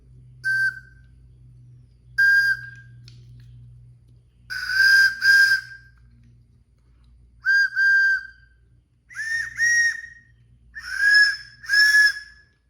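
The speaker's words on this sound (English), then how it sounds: "Well, here we have it. We got our whistles." Handmade wooden whistles are blown in turn, giving about ten bright, steady tones in short pairs and single blasts separated by brief pauses. Some sound slightly breathy, and a low hum runs underneath.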